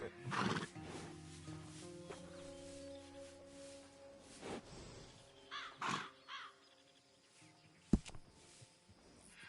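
A horse whinnies and snorts in the video game Red Dead Redemption 2, with several loud neighs spaced apart, crow-like caws, a faint clop of hooves and one sharp thump near the end, and no talking.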